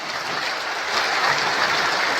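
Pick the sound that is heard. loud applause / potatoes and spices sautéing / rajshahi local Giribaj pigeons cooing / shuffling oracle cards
loud applause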